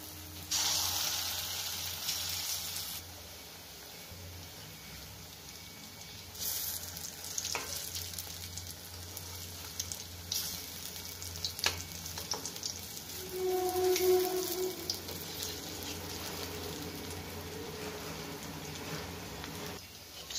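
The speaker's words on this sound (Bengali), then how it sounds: "এভাবে আমি ভেজে নেব পুরোটা।" Lentil fritters (dahi bada) frying in hot oil in a wok give a steady, close sizzle and crackle that runs through the whole stretch, with a few louder bubbling bursts and no talking.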